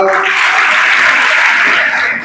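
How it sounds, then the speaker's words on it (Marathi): A school audience of students in a hall bursts into loud, dense clapping that holds steady for a couple of seconds and then tapers slightly at the end. "टाळ्या वाजवा"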